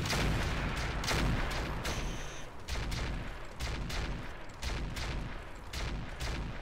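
A rapid barrage of weapons fires from mechs in the Roguetech game, heavy booming shots and explosions stacking into a loud, continuous fusillade.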